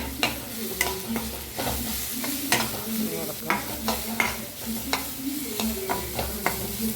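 Grated coconut, garlic, shallots and curry leaves frying in hot oil, a steady close sizzle broken by repeated scraping stirs of a spoon against the pan.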